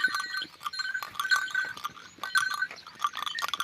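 Cows with bells wander on a farm, bells clinking and jangling irregularly in scattered bursts, fairly close and alone without talk.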